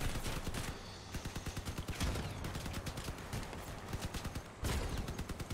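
Autocannon and gunfire in the combat vehicle video game Crossout, rapid repeated shots in dense bursts with short pauses, moderately loud and with no talk.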